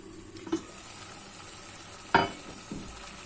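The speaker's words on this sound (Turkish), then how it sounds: "ilave edip 5 dakika kadar kavuracağız" Vegetables sauté in a pan for artichoke dish prep, a quiet steady sizzle broken by a couple of sharp utensil clinks against the pan, close by.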